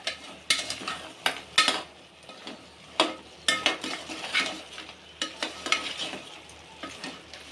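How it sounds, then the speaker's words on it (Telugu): Goat head curry frying in a pan as curry leaves are stirred in, uneven bursts of sizzling and crackle with repeated spoon scrapes and clinks against the metal pan, fairly close and moderately loud; no voices. "కరివేపాకు వేసుకుంటే మంచిదే. వేసి కలుపుదాం ఇట్లా."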